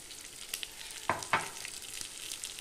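Dried fish frying in a pan on a gas stove, a soft steady sizzle broken by a few sharper crackles and scrapes as it is stirred.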